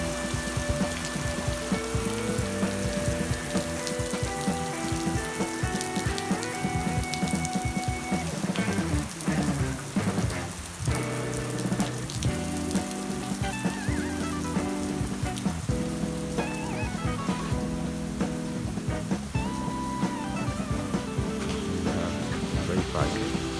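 Rain falls on the road toward Jasper in the Canadian Rockies, a dense, steady patter sustained for the whole stretch over a constant loud background hum, with a voice faintly present beneath.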